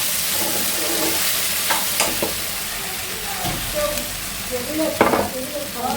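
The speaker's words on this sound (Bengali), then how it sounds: "এটা আলু দিয়ে ঢেঁড়স ভাজি" Okra and potatoes fry in a pan with a steady sizzle, punctuated by stirring clinks and scrapes of a utensil against the pan, close and continuous.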